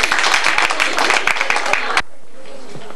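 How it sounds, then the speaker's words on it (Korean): Members at an annual general meeting of a contemporary dance association clap in welcome, brisk dense applause for about two seconds that stops abruptly, followed by near silence. "잘 들으셨으면 박수로 환영해 주세요."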